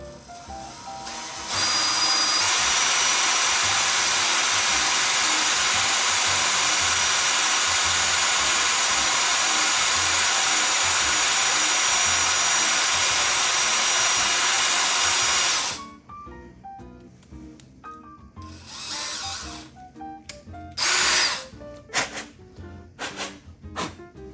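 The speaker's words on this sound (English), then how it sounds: "now starting with a smaller bit, this one is 1/8. I'm going to drill a pilot hole" A power drill with a 1/8 inch bit bores a pilot hole in a long steady whine lasting about fifteen seconds, then cuts off into quieter clattering and handling noises.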